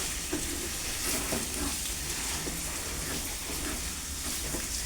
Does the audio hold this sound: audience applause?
no